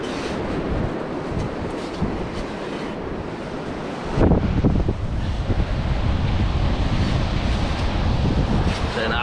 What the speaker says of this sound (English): Get a bit of shelter from that wind.